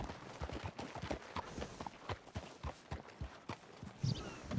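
Horse hooves in Red Dead Redemption 2 clip-clop at a walking pace, a quiet steady patter of soft thuds close by, with a brief louder bump near the end.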